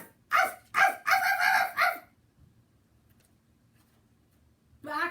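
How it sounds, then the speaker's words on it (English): A dog gives several loud, close barks in quick succession, about five in all, followed by a quiet stretch of low background hum and a brief sound at the very end. "And Maxie barked loudly."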